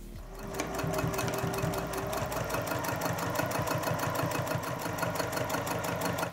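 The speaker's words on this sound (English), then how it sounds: "I'm going to take it to the sewing machine and top stitch with a 3 millimeter stitch length" A sewing machine top-stitches a fat quarter tote bag at a 3 mm stitch length, its needle chattering in a steady, rapid mechanical rhythm that runs close and continuous without pause.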